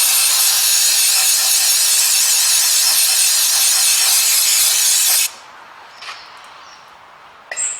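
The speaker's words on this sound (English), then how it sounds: "brake cleaner, give this a really good clean" Brake cleaner sprays onto an Audi A3 gearbox in a continuous loud, close hiss for about five seconds, then stops abruptly, leaving quiet room tone with a couple of faint clicks and a short final burst.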